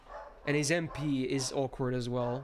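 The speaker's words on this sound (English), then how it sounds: "Excuse the dog on the background." A dog barks and yips in the background, several sharp barks that stay clear but secondary under someone talking close to the microphone.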